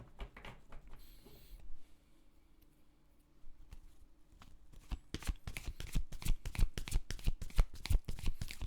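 Tarot cards are shuffled and drawn from a deck close by, with a few soft handling rustles at first, then a quick, dense run of crisp riffling snaps that grows busier and louder toward the end.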